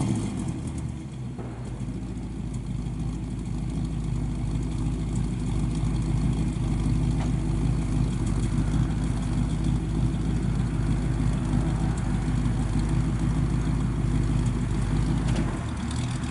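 A 1955 Pontiac Chieftain two-door with a 455 engine idles steadily, its deep exhaust rumble droning evenly and loudly throughout, with no voices over it.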